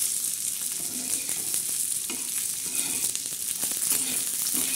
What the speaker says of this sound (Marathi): आता या मिरच्या टाकून द्यायच्या त्याच्यामध्ये।